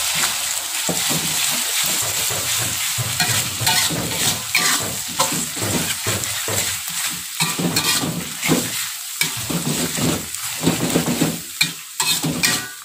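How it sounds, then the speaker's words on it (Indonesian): A utensil scrapes and stirs beef jerky in a hot frying pan amid steady sizzling, with rhythmic scraping strokes close up and no voices. "Kita aduk rata."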